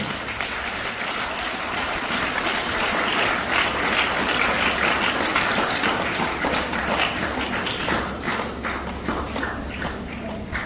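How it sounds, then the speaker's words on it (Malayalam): An audience at a student award ceremony claps steadily and densely throughout, a sustained wash of applause without pause. "എല്ലാവരും കൈയടിച്ച് പ്രോത്സാഹിപ്പിക്കുക."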